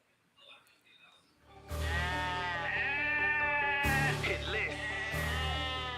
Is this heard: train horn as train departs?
no